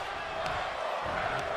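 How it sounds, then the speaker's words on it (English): A crowd cheers during a WWE 2K23 wrestling match, a steady, dense roar of an arena audience that stays loud and even throughout. "The crowd wants this match to keep going"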